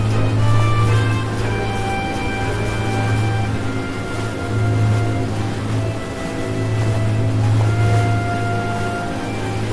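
Engine drone of a rescue boat heading home in the game Schiff-Simulator: Die Seenotretter, a steady low hum with washing sea noise, continuous and fairly loud throughout without talk.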